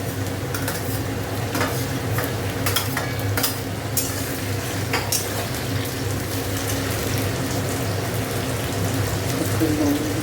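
Tomato added to bitter gourd, potato and onion frying in a pan, heard as a steady close sizzle with continuous scraping and clattering stir strokes throughout.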